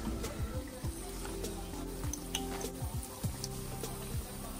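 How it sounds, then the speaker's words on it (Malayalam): Battered banana pieces fry in hot oil, a steady soft sizzle with occasional faint clicks and utensil touches running throughout at close range. "അപ്പം നമ്മുടെ ബാറ്ററിൽ മുക്കിയിട്ട് നമ്മുടെ ഓരോ പീസും വറക്കാൻ വേണ്ടിയിട്ട് വെക്കാം."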